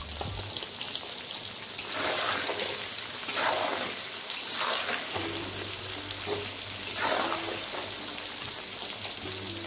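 A garlic pickle mixture being stirred in a pan after salt is added gives a steady close sizzle with repeated scraping strokes, over a low hum, with no voices.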